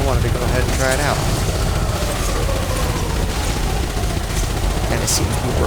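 Ship-mounted multi-cannons in Elite Dangerous pound out a steady, dense barrage of rapid fire with a deep rumble, while a voice speaks over the gunfire.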